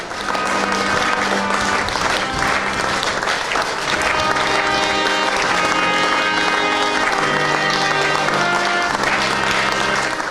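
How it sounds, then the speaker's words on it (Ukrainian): Dense, loud applause filling the Odesa Opera house as mourners say farewell to an opera soloist, steady clapping with music tones running beneath it. "Одесити оплесками проводжали в останню путь артиста"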